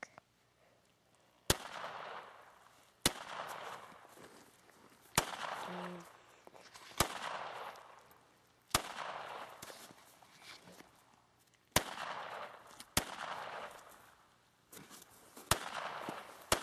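Gunshots ring out outdoors at a family picnic, about ten sharp, loud reports spaced every second or two, each trailing off into a brief rumbling echo.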